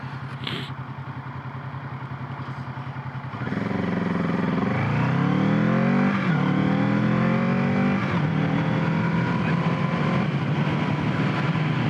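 A Kawasaki Z650 motorcycle engine idles, then revs up and drops through several gears, each downshift marked by a quick throttle blip and falling pitch, close and loud.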